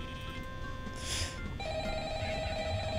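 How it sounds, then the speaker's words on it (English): A telephone rings in a Lego Five Nights at Freddy's game, with a steady electronic ringing tone over low background game ambience and a brief brighter burst partway through. "Okay, answer the phone!"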